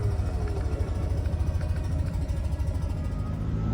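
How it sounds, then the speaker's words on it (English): A classic Fiat 500's 18-horsepower two-cylinder engine chugs away with a low, rapid, even pulse, fairly quiet and steady, with no voices. "To start the car, you turn the key, and then down in the center, you've got 2 levers, one for the choke and one for the starter."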